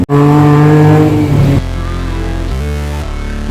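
Vehicle engine noise in Bangkok night traffic, heard from a tuk-tuk: a loud, steady engine drone with shifting pitch as cars speed and accelerate close by, with no talking.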